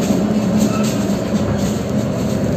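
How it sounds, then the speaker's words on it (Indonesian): Steady loud rumble of the Minangkabau Express airport train as it slows to stop at Padang station, a continuous interior drone with faint rail noise and no talking. "Kita sampai di stasiun Padang. Kita lihat ya, kita proses berhenti di stasiun Padang."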